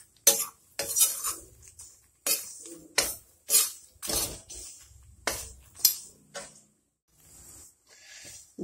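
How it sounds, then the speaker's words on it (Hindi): Dalia, semolina and rice flour roasting dry in a pan, stirred with a metal spoon that gives sharp, close scraping clinks in irregular strokes separated by brief quiet gaps. "इसको मिला करके ऐसे हम हल्का हल्का भून लेंगे इनको।"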